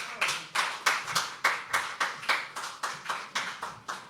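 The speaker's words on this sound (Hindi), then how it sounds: "एक बार जोरदार तालियां होनी चाहिए" At a poetry open mic, a single pair of hands claps slowly and evenly about twice a second, each clap sharp and close, with nothing else heard between them.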